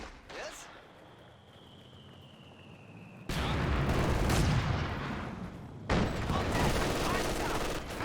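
Gunfire and explosions in the Company of Heroes 2 video game, with an MG42 machine gun firing, heard as loud sustained bursts of rattling shots and blasts, beginning after a quieter stretch and continuing in heavy waves.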